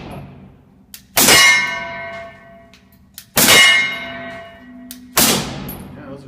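Three loud, ringing metallic clangs as subsonic .45 rounds from a suppressed SIG P226 hit a steel target, evenly spaced a couple of seconds apart, each with a sharp strike and bright lingering ring over faint background noise.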